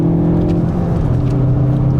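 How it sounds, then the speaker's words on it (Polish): A VW Golf 7.5 GTI Performance with its turbocharged engine pulls hard under acceleration, a loud, steady close-up drone with the pitch sliding gently as revs build and gears change. "jak to brzmi, jak te turbo tam pompuje"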